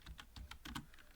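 Quick keystrokes on a computer keyboard while entering WordArt text in PowerPoint, a rapid run of soft clicks over a low hum, faint and close, with no voices.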